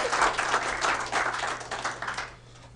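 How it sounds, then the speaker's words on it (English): A room at a city council meeting claps for an award recipient, a brief round of applause that fades out toward the end. "They wanted to clap for you already"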